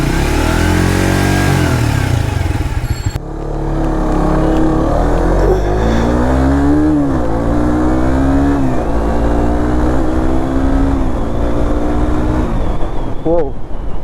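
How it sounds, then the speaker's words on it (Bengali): A Suzuki GSX-R motorcycle treated with a Liqui Moly performance pack revs close by, the engine note climbing and falling in repeated sweeps after an abrupt start, with talk heard at first. "ইঞ্জিন সাউন্ড কোয়ালিটি আগের থেকে অনেক বেটার হয়ে গেছে"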